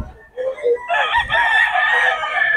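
A fighting rooster of Melsim sweater bloodline at a Bocaue market crows once, loud and close, a hoarse drawn-out call following a couple of short lead-in notes.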